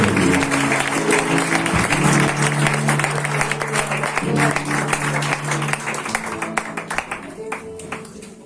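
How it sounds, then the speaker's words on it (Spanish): Church congregation applauding loudly, with many hands clapping in a thick wash that thins into scattered individual claps near the end, over a sustained musical tone. "Ese aplauso fuerte para el Señor pasa al siervo"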